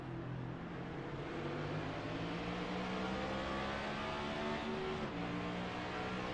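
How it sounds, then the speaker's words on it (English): A race car in the iRacing sim at Chicagoland powers up through the gears on a restart, a steady loud engine drone with rising pitch sweeps carried continuously throughout. "Carmen's up through the gearbox"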